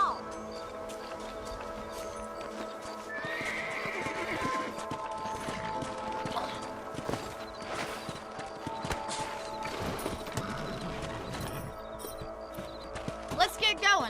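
Horses in the Red Dead Redemption video game clop along with irregular hoof beats, a few neighs and snorts, and clattering game effects. Speech sits in the mix at moderate level throughout.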